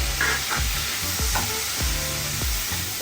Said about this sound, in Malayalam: അപ്പോൾ കട്ട് ചെയ്ത് വെച്ചിരിക്കുന്ന തക്കാളി ഇട്ട് കൊടുക്കണം